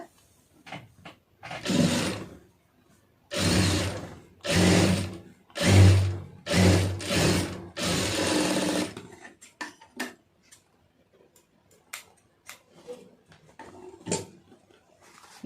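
Electric sewing machine stitching fabric, several loud runs of rapid mechanical whirring a second or so each, separated by pauses and then followed by quieter clicks and handling noises.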